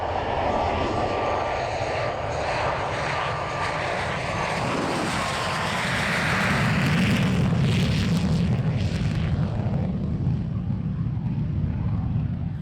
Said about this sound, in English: Randy Ball in his MiG-17 Fresco